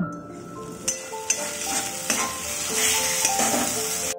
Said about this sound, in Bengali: কচু বাটাটা দিয়ে ভালো করে নারকেলের সঙ্গে আমি এটাকে মিক্স করে নেব।